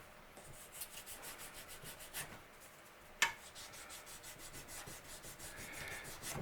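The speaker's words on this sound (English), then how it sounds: "I'm just going to use a high grit and a lot of patience because you don't want to scratch up the fretboard" Fine, high-grit sandpaper rubs along a guitar's wooden fretboard in quick repeated back-and-forth strokes, soft and close with a steady scratchy rhythm and one sharp knock midway.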